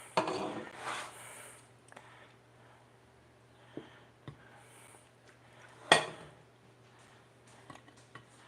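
Ziti being plated, with a metal utensil clinking and scraping against dishes in scattered soft knocks and one sharper clatter, over a low steady hum.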